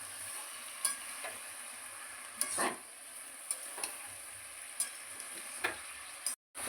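Mixed vegetables with ginger and green chili paste, cooked for a spinach dish, sizzle steadily in a pan. A spatula stirs them and scrapes the pan in sharp clacks every second or so, fairly quiet and near.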